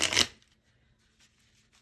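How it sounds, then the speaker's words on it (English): Tarot cards are shuffled in one brisk, loud riffle at the start, then only faint rustling handling follows. "it can be a little bit loud when I'm doing specific certain kinds of shuffles"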